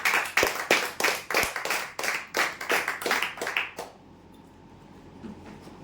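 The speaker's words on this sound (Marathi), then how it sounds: "जोरदार टाळ्या होण्यासाठी" Rhythmic hand clapping for lucky draw winners, about a dozen sharp, evenly spaced claps that stop abruptly, leaving a quiet room tone.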